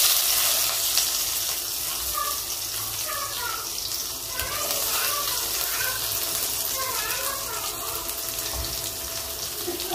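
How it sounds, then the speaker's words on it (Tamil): Chopped onion and green chilli hit hot oil with popped mustard seeds and urad dal for a drumstick-leaf stir-fry, giving a steady, close, even sizzling hiss that runs throughout. "கடுகு பொரிஞ்ச உடனே நம்ம நறுக்கி வச்சிருக்க வெங்காயம் பச்சை மிளகாய் இதில் போட்டுக்கலாம்."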